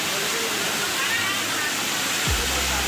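A waterfall roars loudly and steadily beside Ghatarani temple, its dense rushing wash filling the scene while a voice talks over it near the end.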